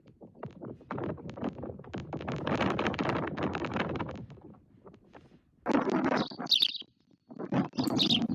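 Brief, bright chirps from a young bird at its nest come near the end, following a stretch of loud rustling and broadband noise close to the microphone.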